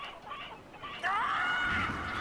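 Cartoonish chickens cluck and squawk in the Billy Hatcher and the Giant Egg video game, a short burst of bird calls rising into a louder, drawn-out squawk near the end, heard alone without speech.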